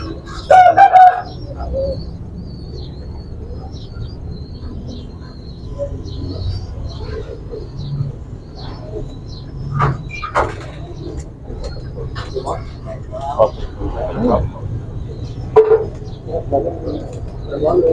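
Breeder pigeons in Rawalpindi coo softly and repeatedly in the background while people talk nearby, with occasional rustles and knocks.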